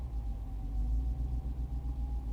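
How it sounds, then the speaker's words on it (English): A 2022 Jeep Wrangler Unlimited Rubicon 392 with performance exhaust idles with a deep, steady low rumble and a faint drone, heard close and alone. "Man, that performance exhaust at idle."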